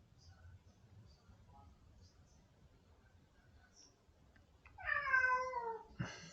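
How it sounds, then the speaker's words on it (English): A pet cat meows loudly near the end, one drawn-out rising and falling call followed by a short second one, over quiet kitchen background noise. "you'll hear my cat meowing in the background"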